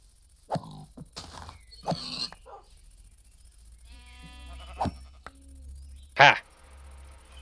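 Sheep bleats from a Minecraft modpack game, a few short calls spread among other animal sounds and a loud burst near the end, with a person talking at times.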